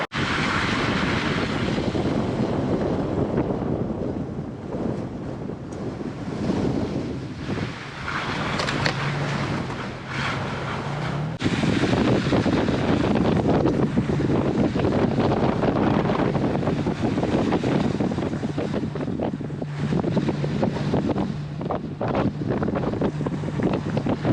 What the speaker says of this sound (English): it's nice vista, but it's quite windy up here